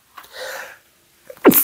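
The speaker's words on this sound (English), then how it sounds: "Early morning sneeze, that's the best." A quiet breathy inhale builds, then a single sharp, loud sneeze bursts out close by.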